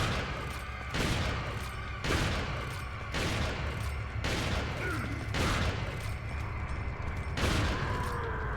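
Rapid gunfire from the Red9 pistol in Resident Evil 4, about eight sharp shots at a steady, roughly one-second rhythm, loud and close over a low background rumble.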